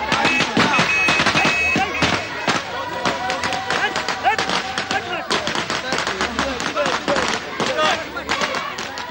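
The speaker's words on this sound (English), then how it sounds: "Fireworks herald the arrival of the groom." Fireworks and firecrackers crackle and bang in dense, rapid bursts as the groom arrives at an Indian wedding, loud and continuous, with crowd noise mixed underneath.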